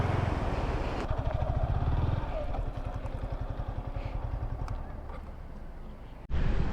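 Motorcycle engine running steadily while riding across a bridge over flowing water, a loud close rumble with rhythmic clattering as the wheels cross the deck, then a sudden shift in sound at the end.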